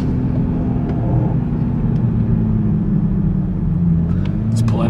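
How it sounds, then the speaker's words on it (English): A Corvette pulls up beside a Toyota Supra on the Las Vegas Strip, giving a loud, close, steady low engine rumble that holds throughout, heard from inside the car with faint sounds from the street. "The Corvette ended up pulling up right next to us."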